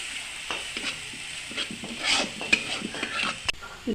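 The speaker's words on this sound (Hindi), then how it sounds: "चिली मशरूम लगी शिमला मिर्चा और प्याज भजा होचे।" Chilli mushroom frying in oil with capsicum and onion, a soft sizzle beneath repeated scraping and clacking of a spatula stirring the pan, with several sharper knocks.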